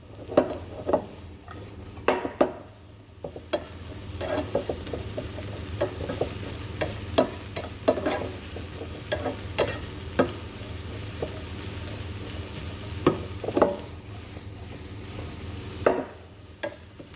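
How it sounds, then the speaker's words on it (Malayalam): Capsicum frying in a pan gives a low steady sizzle, with frequent sharp scrapes and clicks as a utensil stirs it, close and without talk. "നമുക്ക് 2-3 മിനിറ്റ് വരെ ക്യാപ്സിക്കം കുക്ക് ചെയ്യാം."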